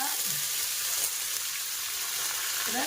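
Mustard seeds, green chilli and curry leaves temper in hot oil for lemon rice, giving a loud, steady crackling sizzle up close. A voice is briefly heard at the end.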